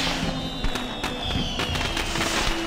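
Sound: fireworks in video game Heavenly Sword

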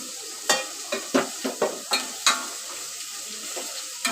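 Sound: onion added to hot oil, sizzling

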